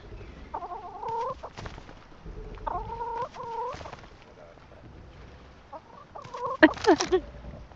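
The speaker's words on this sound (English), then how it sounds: "Stroke the chickens." Chickens in the survival video game Rust cluck in short, separate bursts, a few soft calls spread out, then a sharper, louder cluster near the end, over a quiet background.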